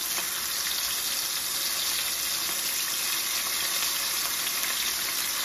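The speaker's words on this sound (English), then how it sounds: "so we'll fry it now" Fish sizzling as it fries in a pan: a loud, steady, close crackling hiss with no breaks.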